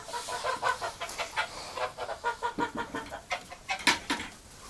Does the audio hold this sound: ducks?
yes